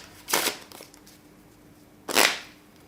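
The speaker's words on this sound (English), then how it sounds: "Give the deck a solid shuffle" A deck of playing cards is shuffled in two quick crisp riffles, each a short rasping burst with a quiet pause between them.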